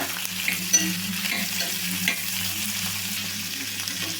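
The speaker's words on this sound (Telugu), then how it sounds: "అందుకనే లైట్గా అయితే వేయించుకోవాలి ఉల్లిపాయ" Onions fry lightly in a pan with an even, moderate sizzle that holds steady throughout, alongside a low background hum and an occasional soft stir.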